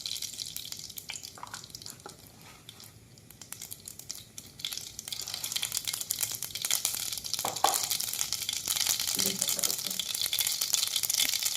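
Mustard seeds frying and crackling in hot ghee as a tempering for buttermilk khichdi, a steady close sizzle that grows louder and busier over the second half, with no talking.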